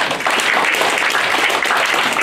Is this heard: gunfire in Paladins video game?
no